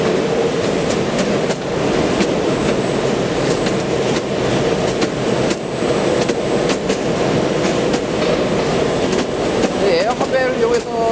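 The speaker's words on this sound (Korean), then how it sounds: "컨베이어를 타고 공병이 들어오면은 여기 이제 에어블로우를 이용해서 공병이" An air conveyor in a deep-sea water bottling plant blows empty bottles along the line, giving a loud, continuous mechanical whoosh and hum with intermittent clicks and knocks throughout.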